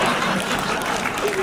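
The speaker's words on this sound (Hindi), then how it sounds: "आप लोग थोड़ा खुल के ताली वाली बजाइए।" An audience at a Hindi comedy poetry event claps in dense, sustained applause for a moment, with some voices mixed into the crowd noise.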